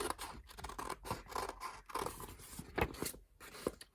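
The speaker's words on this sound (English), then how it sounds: "Then just leave your two papers together, and you're gonna cut right around the perimeter." Scissors snip steadily through two stacked paper sheets, cutting around a circle for an origami koi, with crisp repeated crunching strokes close by and no talk.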